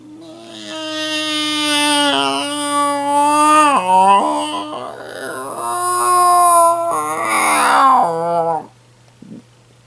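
A voice imitates a cat's meow in long, wavering, whiny drawn-out cries, loud and close, ending with a short faint sound.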